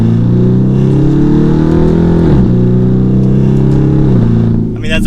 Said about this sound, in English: That V8 is a hard engine to not love the sound of.